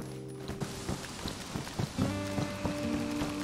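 Rain falling in the DayZ video game, a steady patter of drops on surfaces with faint creaking and tonal mechanical hums underneath, continuous and without speech.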